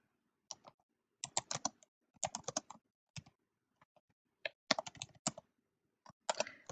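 Bursts of clicky keyboard typing, quick keystrokes in short runs separated by brief pauses, close and clear in a quiet room.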